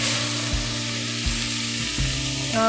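Spices and vegetables frying in a pan for a soya veg pulao, a steady close sizzle running throughout with a few soft clinks and stirring knocks, no talk.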